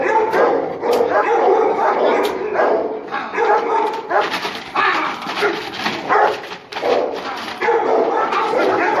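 A dog barks and yips repeatedly during bite-work training with a wooden stick, loud and close, with excited whimpers and someone talking over the barking throughout.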